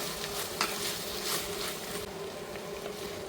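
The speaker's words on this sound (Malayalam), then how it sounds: "അരിഞ്ഞു വെച്ച പച്ചക്കായയും ചേനയും ഇട്ട് കൊടുക്കാം. ഇനി ഇതിൽ കിടന്ന് നന്നായിട്ടൊന്ന് വഴറ്റിയെടുക്കുക." Chopped raw plantain and elephant foot yam sauté in a hot pan for a Kerala-style drumstick-leaf curry, giving a steady, close sizzle with a few soft scraping stirs throughout.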